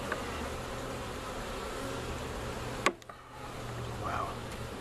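Honey bees buzz around an open hive during hive work, a steady soft drone close by, broken by a sharp clack near the middle.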